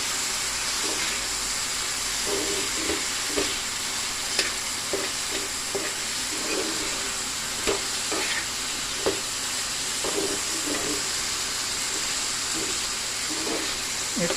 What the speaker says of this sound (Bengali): এটা দিয়ে একটু কষিয়ে নিই ভালো করে।